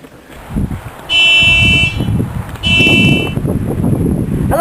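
A car alarm sounds in two loud electronic bursts, each lasting about a second, over rumbling background noise.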